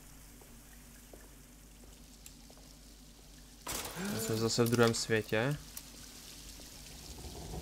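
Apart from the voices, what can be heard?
running water in the video game Alone in the Dark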